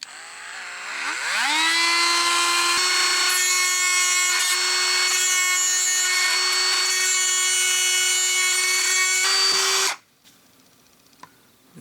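A Dremel rotary tool spins up and cuts steadily at a high whine during work on an abandoned 1966 Chevy Biscayne big block, running about eight seconds alone before stopping abruptly.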